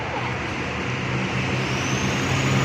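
A Hino RK8 bus with an SR2 HD Prime body, run by Kumarang Jaya, gives off a steady, loud engine and road rumble with no breaks.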